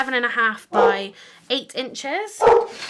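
A dog barks a few times indoors while a person talks steadily over a papercraft table, the barks cutting in sharply between the words.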